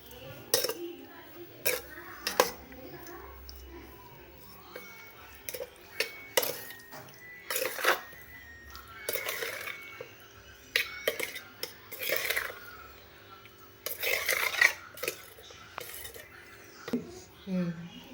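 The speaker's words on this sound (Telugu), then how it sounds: "దీన్నంతా మనం బాగా మిక్స్ చేసుకుందాం." Mutton brain being mixed by hand with ginger garlic paste in a bowl, with soft wet squelches, scattered clinks of dishes and utensils, and a person talking throughout.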